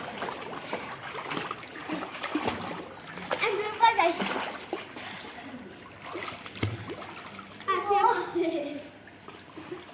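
Splashes from people jumping into a swimming pool, bursts of water impact scattered across the stretch amid children's shouts and chatter, with a louder splash near the middle and another toward the end.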